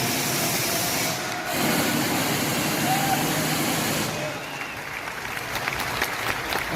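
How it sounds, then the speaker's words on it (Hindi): An audience claps steadily at a product launch gathering, a broad rustling wash of many hands that shifts in density partway through, with voices murmuring underneath. "ताली बजती है।"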